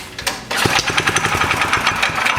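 A Yerf-Dog go-kart's small engine catches after being choked, running loud and close with a rapid, uneven chugging putter that starts abruptly and keeps firing steadily without any voices.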